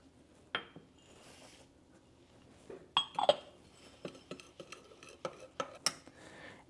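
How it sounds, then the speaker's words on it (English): Spoon stirs oat flour and quick oats in a bowl, giving soft scraping with scattered light clinks against the bowl, close and quiet, without talk. "I will stir in both the oat flour and the quick oats to get that mixed up"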